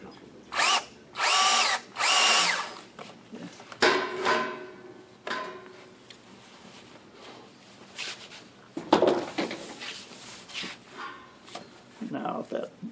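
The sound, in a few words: hand drill drilling into a wooden box top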